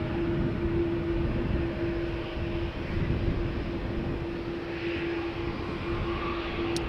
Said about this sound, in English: Air Europa flight 1098 to Madrid, 7879 Dreamliner